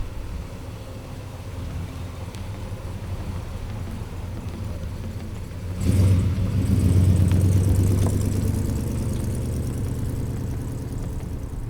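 A 1968 Chevelle Malibu muscle car engine runs steadily, then swells louder midway as the car pulls away, holding a deep rumble that settles slightly toward the end without any talk.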